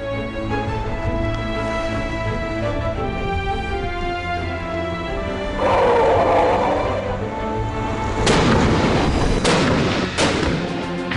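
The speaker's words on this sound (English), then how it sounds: "The sound of gunfire never stops on the five West Coast islands." Artillery gunfire on a West Coast island along the North–South Korean sea border: heavy booms and sharp blasts break over a loud musical bed, strongest in the second half.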